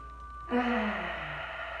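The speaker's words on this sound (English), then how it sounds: "a nice deep breath in through your nose" A slow, deep breath drawn in through the nose during a children's yoga session, starting about halfway through as a soft, airy rush that rises quickly and then tapers off, with no talking.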